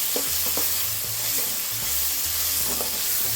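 Peas, carrots and tomato frying in a pan for chitranna, a continuous close sizzle with occasional stirring scrapes and clicks, no voices.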